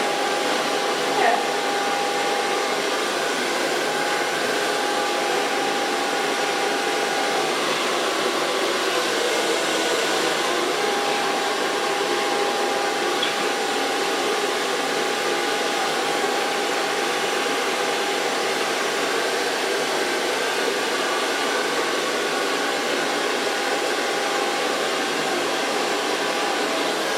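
A hair dryer blows steadily on hair, giving a continuous, close, even whoosh that runs for almost half a minute with no speech over it.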